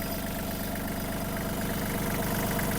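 A Kubota GL-261 tractor engine idles steadily close by, giving a continuous low, even rumble with a slight vibrating texture and no change in pace.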